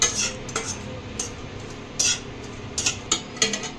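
Whole spices dry roasting in a hot kadai for chicken maharani, with sharp metallic clinks and scrapes of a spoon stirring against the pan, coming in irregular bursts over a low steady background.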